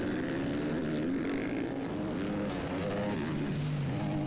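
Supermoto motorcycles race at a world championship round in Chachagüi, Colombia, their engines droning loud and steady with rising and falling pitch as bikes pass, no voices.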